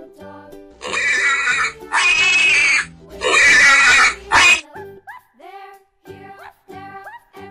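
A pig grunts and squeals in loud, harsh bursts, then follows with a run of short, high squeaky calls at a close distance.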